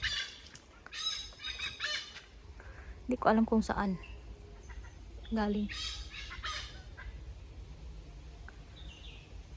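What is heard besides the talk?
birds calling noisily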